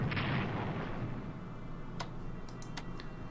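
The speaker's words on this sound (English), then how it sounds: "Battleship will take a shot." A battleship fires a shot in the strategy game Strategic Command, heard as an opening cannon-like boom followed by a fading rumble and a few sharp ticking clicks.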